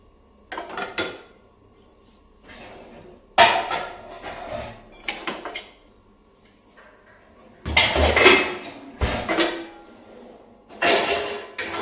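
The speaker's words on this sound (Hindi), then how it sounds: "चलो तो बर्तन लगा लेते हैं पहले।" Kitchen dishes, steel utensils and cutlery are set out and stacked in bursts of clattering and clinking, with quiet pauses between, close by and without talk.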